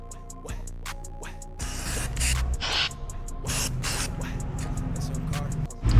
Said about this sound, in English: now we're gonna spray paint it with this textured finish